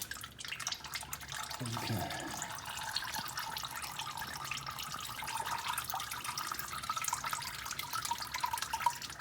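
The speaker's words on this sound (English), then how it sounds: "I just let this oil drain down for a bit" Motor oil drains from a 2009 Honda Civic, a steady liquid trickle and splatter running throughout; one short spoken word is heard early on.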